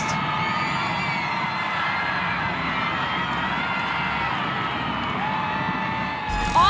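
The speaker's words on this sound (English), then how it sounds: "The crowd goes wild because Seattle Reign have equalized." A stadium crowd at an NWSL women's soccer match roars after Seattle Reign score an equalizing goal: a sustained, broad wall of cheering and whooping that holds steady, then a brief louder burst at the very end.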